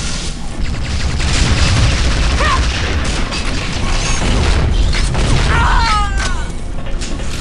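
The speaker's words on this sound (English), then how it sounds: "I love a flat cannon. So explosive." Flak cannon fire in the video game Unreal Tournament 2003, repeated heavy explosive booms and blasts in a small arena, loud and close, with mechanical weapon sounds and brief whistling projectile tones between shots.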